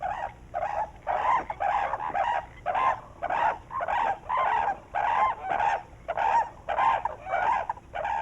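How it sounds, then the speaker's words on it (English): Australian cranes call during a courtship dance, a loud, regular series of repeated trumpeting notes roughly twice a second, close and clear with no talk. "Trumpeting, tossing sprays of leaves, the Australian cranes dance around the year as part of courtship at breeding time"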